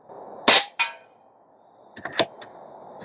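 An Airmaks Krait L Pro air rifle fires an AEA pellet with a loud, close crack and a short follow-up snap. A cluster of quieter metallic clicks sounds about a second and a half later.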